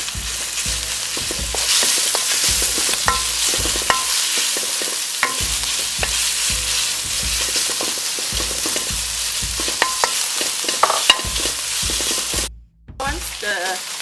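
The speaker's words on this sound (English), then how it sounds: "add in the minced pork" Minced pork stir-fried for mapo tofu sizzles loudly and steadily in a hot pan, with repeated scraping strokes of a spatula throughout, cutting out briefly near the end before resuming.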